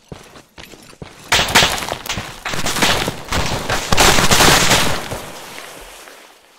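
Gunfire aimed at the player in a video game: dense, loud bursts of rapid shots with thudding impacts, a few sparse cracks at first, then near-continuous fire, fading toward the end.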